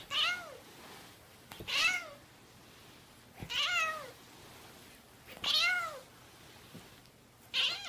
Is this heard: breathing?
no